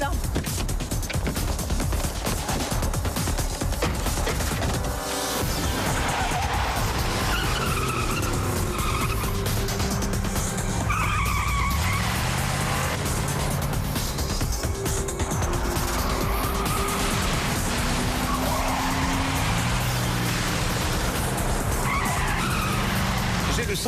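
A car roars off with tires squealing and skidding, the engine revving loud and close throughout amid chaotic background commotion, with people shouting over the noise.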